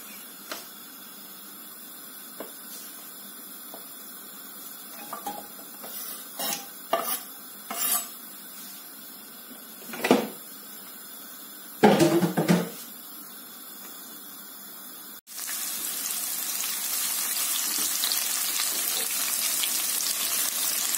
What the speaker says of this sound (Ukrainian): Цибулю підсмажую до такого карамельного кольору